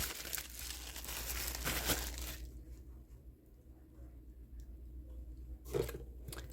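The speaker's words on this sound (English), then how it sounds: "is your standard bubble wrap." Standard plastic bubble wrap is handled and crinkled up close, giving a steady papery crackle that eases off midway and then flares briefly again, with no one speaking.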